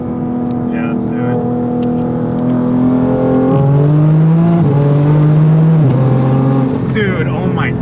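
A Toyota Supra MK5 with a custom MK4-style exhaust revs loudly and launches off a brake boost, its engine note climbing and shifting in steady harmonic sweeps, with people talking over it.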